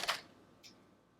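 Cap of an aloe vera primer spray bottle coming open: a quiet plastic click, then a second softer click, close by and otherwise near silent.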